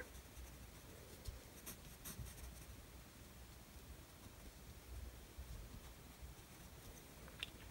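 A colored pencil crayon moves across drawing paper, a soft, faint scratchy rasp of strokes repeating steadily throughout, quiet and close with no talking.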